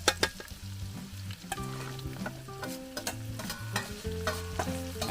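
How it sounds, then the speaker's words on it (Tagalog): Garlic and onions sizzle and fry in a hot pan while preparing patatim, braised pork leg, with a steady crackle and some stirring clatter close by, with no voices. "Pag mabango na ang bawang, hulog po natin yung sibuyas."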